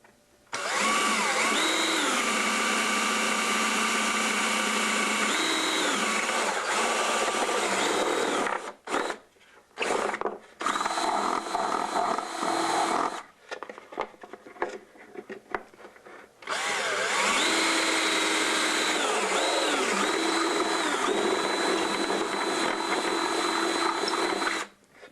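A power drill boring into a guitar neck heel block for a mortise and tenon joint, long steady whining runs near and loud, broken midway by short stops and restarts.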